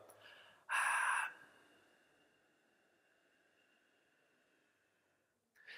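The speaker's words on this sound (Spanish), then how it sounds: "el micro está recogiendo el sonido de la respiración" A single breathy ujjayi-breathing exhalation, a short loud hiss with a throaty edge, followed by a long faint hissing tail fading into quiet.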